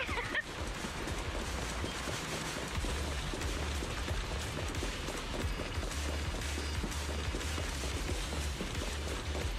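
Steady rain in a video game, a dense, even hiss of falling water that holds at moderate level throughout with no distinct drops or talk standing out.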